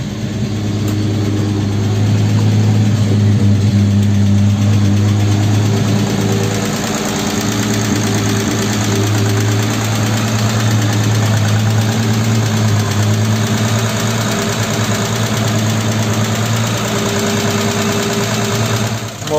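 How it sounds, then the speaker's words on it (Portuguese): A Chevrolet six-cylinder engine, with a freshly rebuilt Wapsa distributor and the choke slightly pulled, idles steadily and close by for about twenty seconds, its low, even hum dipping a little after the first few seconds. "Deixei o afogador um pouquinho puxado. Ligar, ele ligou."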